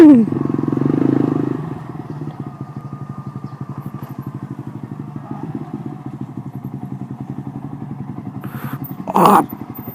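A motorcycle rides along steadily with a continuous engine drone and rhythmic mechanical pulsing, a louder rev or rumble at the start and a brief loud burst near the end, no voices.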